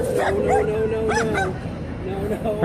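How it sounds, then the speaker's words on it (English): A dog yips and whines in short, high, wavering bursts, close by, over a low background rumble. "I heard a dog barking."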